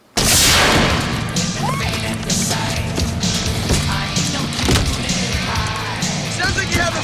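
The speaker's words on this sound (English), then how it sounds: "Jason smashes her face into the side panel" A face smashed into the side panel of an RV in a horror film, a loud sudden crash at the start followed by clattering thuds and a voice mixed into the film soundtrack.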